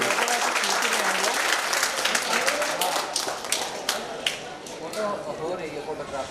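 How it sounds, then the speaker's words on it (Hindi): Loud audience applause fills a hall at a poetry gathering of visually impaired poets as children receive prizes, steady dense clapping throughout with crowd noise beneath. "एक बार जोरदार तालियां होनी चाहिए।"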